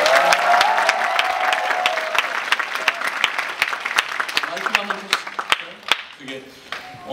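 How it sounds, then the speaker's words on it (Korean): A theatre audience applauds at a musical curtain call, dense clapping that starts thick and gradually thins into scattered individual claps, with a voice speaking faintly beneath. "여러분 큰 박수 한번 주시죠"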